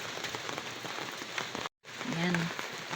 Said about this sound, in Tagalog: Isang buhos lang ng ulan, nagkatubig kaagad.